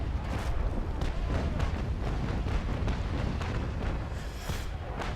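Ship cannons fire during a naval battle in the video game Naval Action Legends, a rapid series of heavy booming blasts that run together into a loud, sustained barrage with no talk over it.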